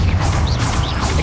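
A Confringo spell cast in the video game Hogwarts Legacy bursts out as a loud, dense crash and rumble, sustained and heavy with no let-up over the short span.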